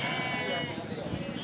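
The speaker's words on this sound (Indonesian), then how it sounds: "kalau mau beli kambing atau domba di pasar hewan yang ada di Pring Sewu ini" Sheep and goats at the Pringsewu livestock market, a dense, loud blend of bleating and crowd noise filling the whole moment, with voices mixed into the din.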